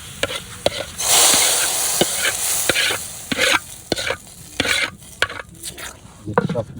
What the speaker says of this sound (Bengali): এবার এই যে টকের ভিতরে টকটা বাগার দিয়ে নেবে।